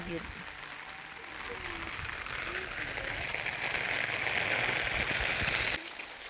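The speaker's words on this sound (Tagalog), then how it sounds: "Usog ang ulan." Rain falls steadily and grows slightly heavier over several seconds, a close, hissing patter on surfaces with faint gurgling water beneath it, and a few soft voices earlier in the clip before the sound drops off near the end.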